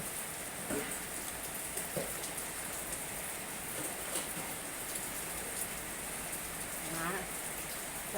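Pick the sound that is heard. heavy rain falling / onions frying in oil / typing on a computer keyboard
heavy rain falling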